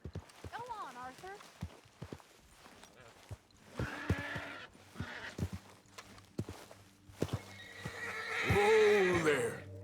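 A horse in the video game Red Dead Redemption 2 whinnies and snorts several times, with shrill neighs early and late, clip-clopping hooves and a voice speaking over it.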